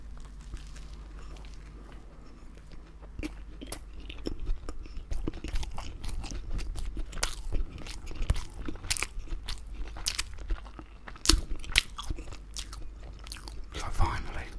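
Crunching bites and wet chewing of a Richmond meat-free sausage sandwich, close to the mic, with irregular clicky crunches building and repeating steadily throughout.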